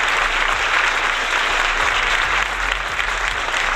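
Dense, even applause from an assembled crowd at a People's Parliament gathering, a continuous wash of many hands clapping without pause throughout.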